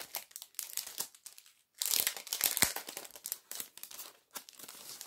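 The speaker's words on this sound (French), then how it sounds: "attendez, je vais l'enlever du papier" Paper wrapping crinkles and tears as it is pulled off a greeting card from an advent calendar gift, close, quiet rustles and crumples in irregular bursts with a louder tearing flurry in the middle.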